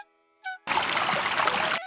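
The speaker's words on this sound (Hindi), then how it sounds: "उसने जैसे ही बाल्टी डाली, नीचे से ठंडी हवा का झोंका आया और पानी की आवाज सुनाई दी" Water rushes loudly and steadily as a bucket is lowered into a well, preceded by a short tonal creak and a brief burst.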